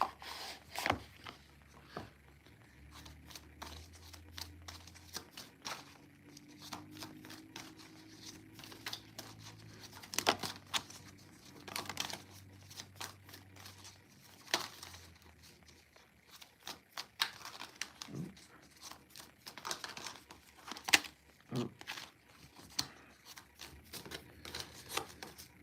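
Angel oracle cards are shuffled in repeated soft riffling bursts with light slaps and rustles, faint and close, without talk.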